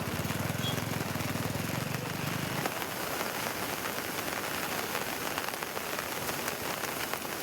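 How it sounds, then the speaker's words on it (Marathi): Heavy monsoon rain pours down in the Mundhwa area of Pune, a dense, loud, steady hiss of drops hitting the ground, with a low engine-like rumble in the first few seconds that then drops away. "पुण्याच्या मुंढवा परिसरामध्ये मुसळधार पाऊस पडतोय."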